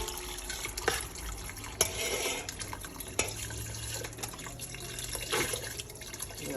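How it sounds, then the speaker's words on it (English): Water poured into a small pot of Creole gumbo with chicken stock, a steady running splash close by that continues with small surges throughout. "we're gonna have to put a lot of more chicken stock in here, maybe a little water"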